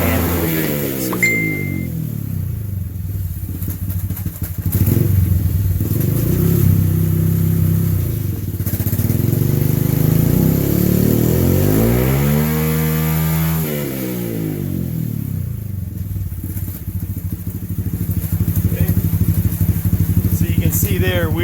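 A modified Honda Grom with a 181 big bore kit, built head, bigger cam, dual exhaust and bigger intake revs loudly under load with the back brake on, the engine pitch rising and falling in repeated sweeps, close and dominant.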